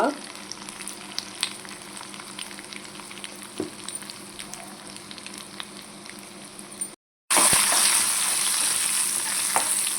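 Tempering spices (garlic, two dried red chillies, turmeric, asafoetida, curry leaves) crackle and sizzle in hot oil, a steady close frying hiss with occasional pops, growing suddenly louder after a short gap near the end.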